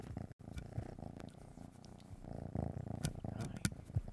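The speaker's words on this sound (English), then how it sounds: "And now they're purring like crazy." Two house cats purring loudly and steadily up close, a continuous rumbling drone with a whirring fan nearby and no talk.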